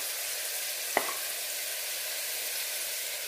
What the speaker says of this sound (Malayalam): ഈ സവോള ഒന്ന് ജസ്റ്റ് എണ്ണയിൽ കിടന്നിട്ട് ഒന്ന് ചെറുതായിട്ടൊന്ന് വഴറ്റാം.